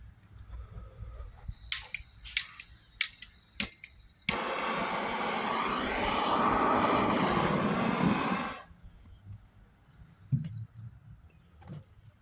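A small pile of black powder mixed with 2% dextrin ignites and burns in a loud, steady rushing hiss for about four seconds, then cuts off abruptly. A few sharp taps and clicks come before it and some faint handling noise follows.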